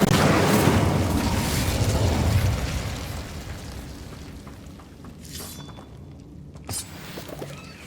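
Incendio fire spell cast in Hogwarts Legacy, a loud burst of roaring flame that crackles and then dies away over a few seconds, followed by quieter scattered pops and ambient noise.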